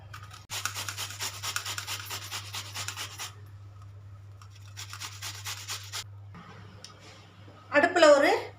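Peeled bottle gourd grated by hand in a home kitchen for halwa, two bursts of steady raspy scraping strokes separated by a pause, then a short louder clatter at the end, with a low hum throughout.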